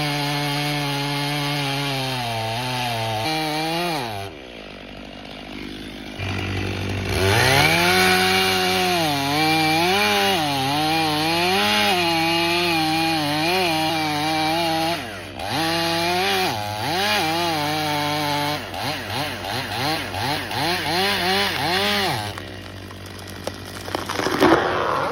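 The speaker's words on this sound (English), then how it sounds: "Two men step forward, each gripping a long chainsaw." A long chainsaw cuts through tree wood with a loud, continuous engine drone whose pitch dips and climbs as the bar bites, ending in a burst of sharper revving.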